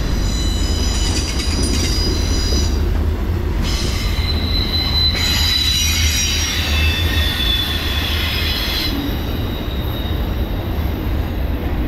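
Norfolk Southern 22X freight train with 188 axles rolls past at about 29 mph on the Lehigh Line, a loud continuous rumble of wagons with persistent high wheel squeal throughout.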